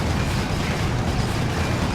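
Plasma weapon fire in the video game Warhammer 40,000: Space Marine, a loud, continuous roaring blast of explosive noise filling the whole clip with no break and no talking.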